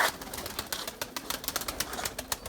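Purebred Erzurum White breeding pigeons coo softly and beat their wings in a loft, a busy, fluttering texture of repeated flaps and low calls at moderate distance.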